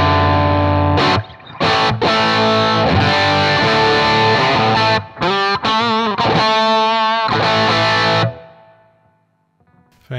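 An electric guitar plays through a high-watt dirty amp model in a TONEX pedal, heavily distorted with some reverb, in loud sustained chords and bends broken by short gaps before ringing out to silence.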